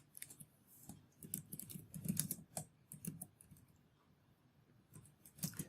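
Steady typing on a computer keyboard, a continuous patter of light, irregular key clicks with a few louder taps, close and quiet with no talk.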